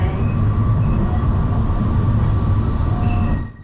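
An Alishan Forest Railway train runs between Chiayi and Fenqihu in Taiwan's mountains, giving a loud, steady rumble with thin squealing wheel tones, then fading out at the end.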